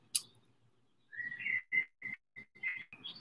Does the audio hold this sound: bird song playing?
yes